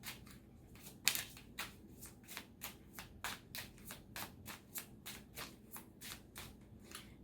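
Tarot love cards being shuffled close up, with a steady run of about twenty crisp riffling bursts at even intervals and no talking.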